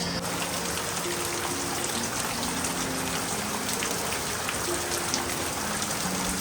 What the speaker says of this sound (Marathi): कशा प्रकारे पाऊस आला आहे आणि आज दिवसभर किती पाऊस पडला आहे